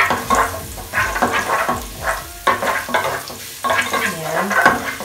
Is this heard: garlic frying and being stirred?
yes